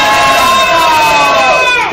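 An Indonesian studio audience in the stands and balcony cheers and shouts loudly together, a dense, close crowd roar filling the whole moment without a break.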